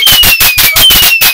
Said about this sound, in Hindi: दिवाली में पटाखे, वो भी बिगत प्रदूषण वाले